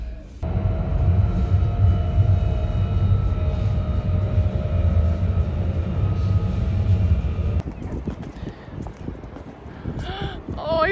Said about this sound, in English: You can see the train.